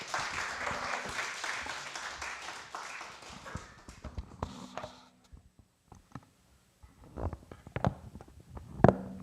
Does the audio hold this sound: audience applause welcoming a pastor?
yes